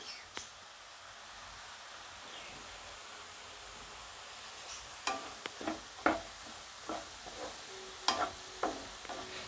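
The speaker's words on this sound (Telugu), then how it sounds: "ముందు ఈ తురుముని ఫ్రై చేసుకోవాలి వన్ టేబుల్ స్పూన్ నెయ్యి వేసుకోవాలి" Grated pumpkin frying in ghee on a low flame for a sweet, a soft steady sizzle with faint scraping stirs that grow more frequent in the second half, quiet and close.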